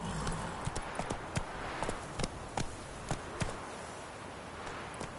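Horse hooves clip-clop at a steady walking pace in The Witcher 3, about a dozen distinct hoofbeats, fairly faint and close, with no talk over them.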